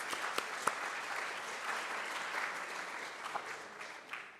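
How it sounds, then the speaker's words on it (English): A room full of people at a film festival screening claps steadily and fairly evenly for several seconds at moderate distance, with a few sharper individual claps popping out near the start. "A little round of applause."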